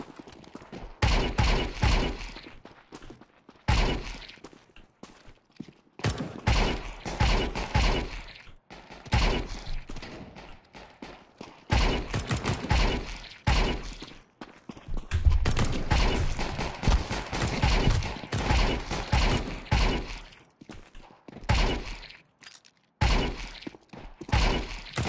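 Bursts of gunfire from a trigger bot in Counter-Strike 2, rapid shots in repeated volleys with short gaps between them, loud and close, with no talking over them.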